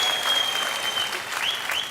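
A studio audience on a comedy show stage claps steadily in a dense, even wash of applause, with a faint whistle-like tone running through it.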